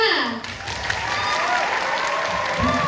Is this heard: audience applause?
yes